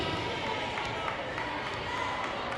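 A crowd with a student section at a high school varsity volleyball match between the Dragons and Seaholm, giving a steady, dense roar of cheering and chatter under talking voices.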